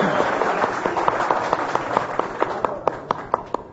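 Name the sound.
applause for the late singer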